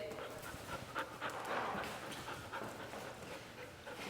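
Young Goldendoodle puppies, five weeks old, pant and give small whimpers close by in a home setting, a steady soft breathy rhythm with a few brief whines over low background noise.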